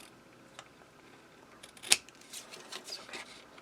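Scissors trim a strip of paper for a mini album page, one sharp close snip followed by a few softer cutting and handling sounds, fairly quiet with no talking.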